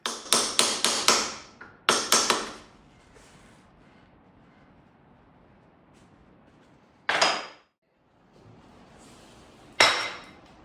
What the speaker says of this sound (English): Then I use the hammer to work the chipped top edge back to the shape.